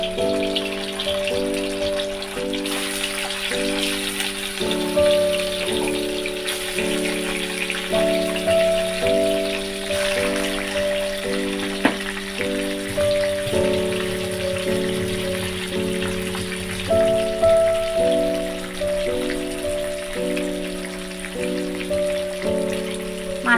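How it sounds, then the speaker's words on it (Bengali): Bhetki fish frying in hot oil gives a steady rain-like sizzle that runs the whole time, with louder melodic music playing over it. "মাছটাকে ভালো করে ভেজে নিচ্ছি"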